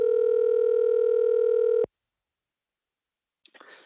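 A telephone dial tone at the start of a call sounds as a steady, loud, continuous tone for about two seconds, then cuts off abruptly to silence, followed by a faint, brief rustle near the end.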